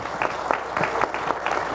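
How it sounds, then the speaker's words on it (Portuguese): Steady applause from a crowd at an agriculture forum, a dense patter of clapping hands filling the short clip without a break. "vamos recebê-lo com uma salva de palmas, o Thales Pezzini."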